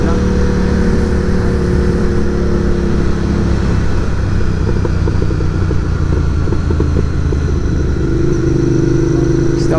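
A cafe racer motorcycle cruising on a touring ride on country roads, its engine droning steadily with rising and falling revs beneath heavy wind rush, loud and close throughout.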